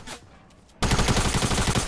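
A sniper rifle fires in the Fortnite Battle Royale video game: a sudden loud shot rings out, followed by a dense, sustained burst of further gunfire and game noise.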